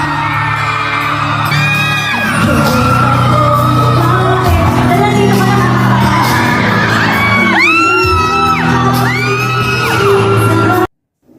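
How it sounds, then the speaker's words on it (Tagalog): Crowd of fans screaming, whooping and cheering nonstop at a live event where a singer serenades a man on stage, loud and sustained, with voices rising in shrill peaks before cutting off abruptly at the end. "Walang tigil ang hiyawan ng mga tao na nandoon"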